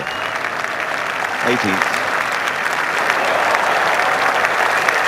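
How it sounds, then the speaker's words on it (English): Golf gallery at the 1986 Open Championship cheering and applauding on the 18th, a dense, steady roar of clapping and shouts that swells slightly and holds throughout, with a commentator talking over it. "Giving a great cheer."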